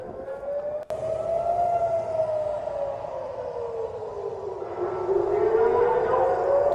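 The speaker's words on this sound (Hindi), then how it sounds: "तो लगातार सायरन की आवाज इजराइल के अलग अलग इलाकों में, शहरों में गूंज रही है।" An air raid siren wails continuously during a rocket attack in Be'eri, Israel, its tone slowly rising and falling as it echoes from a distance.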